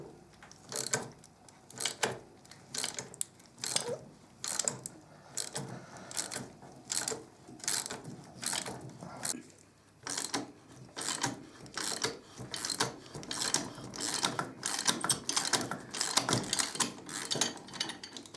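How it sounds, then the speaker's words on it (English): A ratchet turns a chain breaker tool to press a pin out of a Kawasaki Z1000SX motorcycle chain: steady, rhythmic clicking in short repeated strokes, close and fairly quiet, continuing with brief pauses throughout. "I'm going to use a ratchet, and we'll push the first pin out."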